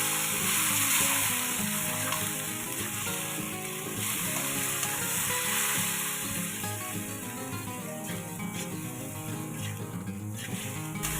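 Cooked shrimp paste (alamang) stirred with meat in a pan, a loud dense continuous sizzle with steady stirring throughout, close and unbroken.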